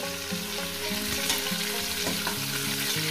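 Cauliflower florets frying in hot oil give a steady, dense sizzle, with soft scraping and clinks as pieces are stirred and lifted out; a low humming tone runs beneath the frying throughout.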